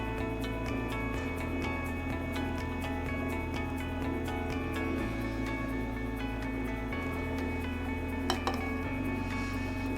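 An Emeril pasta maker churns udon noodle dough of flour and water, a steady low motor hum with rhythmic clunking and a scatter of clinking, rattling knocks throughout, fairly quiet with no talking.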